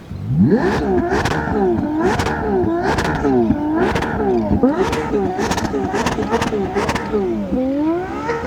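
A Ferrari 12Cilindri Spider's V12 engine revs hard again and again toward 9,500 rpm, each rising wail peaking and dropping in quick succession, loud and close with no talking.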